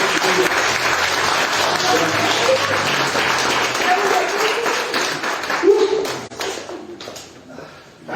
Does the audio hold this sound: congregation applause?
yes